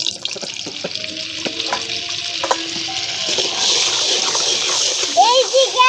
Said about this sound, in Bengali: তেলটা গরম হয়ে গেছে, এবার এক টুকরো বাটার দিয়ে দেব।